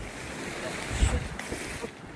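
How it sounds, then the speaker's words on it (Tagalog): Strong wind gusts across a lakeside campsite at Lawsons Landing, producing a steady low rumble of buffeting against the microphone with a sharper gust in the middle and no talking. "Lakas ng hangin."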